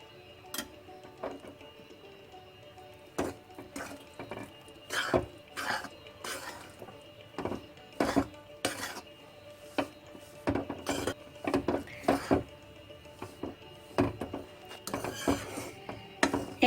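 A spoon clinks and scrapes in a pan as ghee is mixed into roasted green moong dal for jaggery ladoos, giving irregular close metallic taps over a quiet background.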